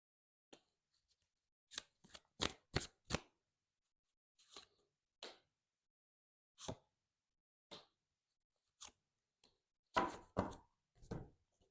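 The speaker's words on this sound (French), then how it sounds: "On va regarder un petit peu plus en recouvrant certaines cartes." Tarot cards handled and turned over one by one on a table, giving a series of soft, close flicks and slaps in irregular bursts, with a denser cluster of snaps near the end and no talking.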